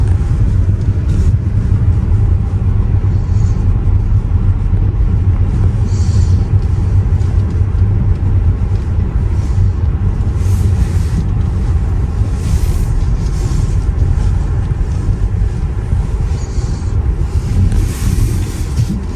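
A 2023 BMW X3 SUV driving through snow, a loud, steady low rumble of engine and tires heard from inside the cabin, with constant road noise and faint wind throughout.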